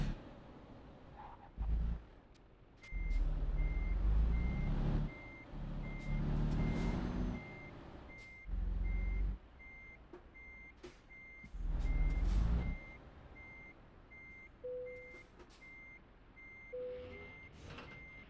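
A truck in the Euro Truck Simulator 2 video game sounds steady, evenly spaced reversing beeps throughout, over bursts of loud engine rumble and air-brake hisses.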